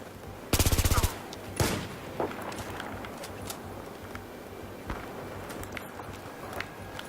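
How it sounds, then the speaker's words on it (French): A silenced FAMAS fires a quick automatic burst in Battlefield 4, followed by a few scattered single shots and faint footsteps in the background of the match. "Je tire mes ennemis maintenant"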